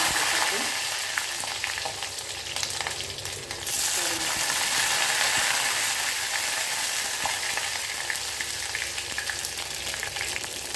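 Mustard seeds, fennel, fenugreek and garlic cloves frying in oil in a clay pot, a dense continuous crackling sizzle with a brief stirring scrape early on, close and fairly loud throughout.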